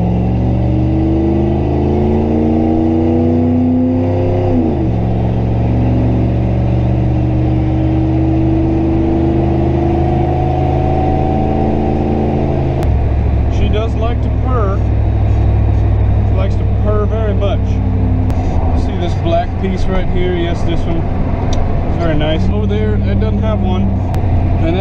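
An older Pontiac Firebird accelerates along a rural road past cornfields, engine note rising through the gears with a shift drop, loud and close inside the car, with someone talking over it.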